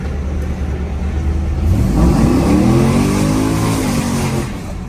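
Chevrolet Camaro F-body engine revs loudly up close, the pitch climbing through a sustained rise as the tires spin, then easing back down, with no talk over it.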